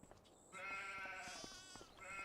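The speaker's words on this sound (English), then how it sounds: "So we got some sheep." Sheep bleat in a Farming Simulator pasture, a couple of close, wavering baa calls over quiet farm ambience, with no talk.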